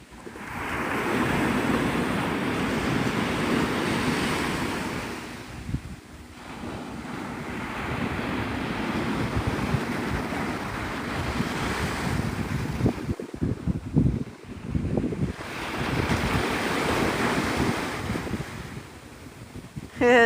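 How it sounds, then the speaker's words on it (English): Steady surf washes onto a Florida beach at Navarre Beach at sunrise while a rising breeze buffets the microphone, with a continuous loud rush and a brief lull partway through. "I can tell it's starting to get a little bit more breezy"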